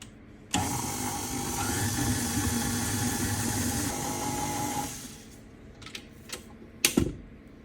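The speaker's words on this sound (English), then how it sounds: "I'm going to put this here with my paddle attachment, and I'm going to set it on like a medium speed for about 30 seconds." A stand mixer with a paddle attachment works cookie dough at medium speed. Its motor starts abruptly and hums steadily for about four seconds, then winds down, followed by a few sharp knocks and clatters.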